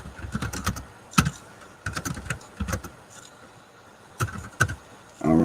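Bursts of close computer keyboard typing, quick clusters of key clicks separated by short pauses, with no talk.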